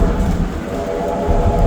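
Steam locomotive No. 2024 blows its whistle loudly while under way on a railway ride, a sustained, close tonal blast over the low rumble of the moving train.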